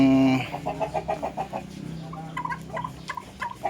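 A Dark Mahogany gamefowl rooster clucks in a quick run of short, evenly spaced calls followed by scattered softer clucks, close by and without talk.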